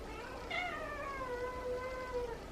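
Feral cats meow in a long, drawn-out, slightly squeaky wail that slides downward in pitch, fairly faint over a steady background hiss.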